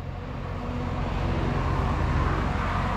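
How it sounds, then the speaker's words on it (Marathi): Road traffic on a highway near Poladpur, a continuous low rumble and whoosh of vehicles passing close by, steady and fairly loud with no voices. "गाड्या जातात त्यामुळे ऐकायला येत नाही"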